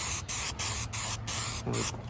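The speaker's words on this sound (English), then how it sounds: "Normally with adhesive, you have to wait for it. This shit, you don't. You just spray and go, baby" Spray adhesive hissing out of a can onto a car headliner, close and loud, in several quick back-to-back bursts separated by brief gaps.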